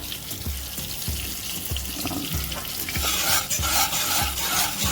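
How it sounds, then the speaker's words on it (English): Cheese being stirred into creamy grits in a Lodge 10.5-inch cast iron Dutch oven, a steady rhythmic scraping about twice a second over a soft bubbling sizzle that grows brighter toward the end. "And now I'm going to throw in my cut up cheese. Stir it around"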